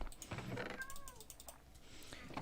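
A Minecraft cat gives a short, faint meow with a rising and falling pitch, set among soft game sounds and quiet clicks.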